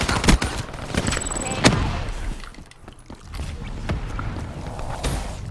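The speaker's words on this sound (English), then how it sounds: "And they're shooting it." Rapid gunfire in Black Ops 3 as players shoot down a robot, with dense bursts of automatic shots and sharp cracks, loud and close, easing briefly midway before resuming.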